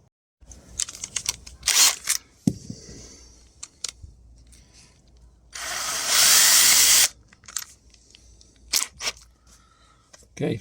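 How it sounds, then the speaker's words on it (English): A small power drill drills into wood, whirring in one sustained burst of about a second, with scattered clicks and handling knocks before and after. "Okay, so small drill to mark it."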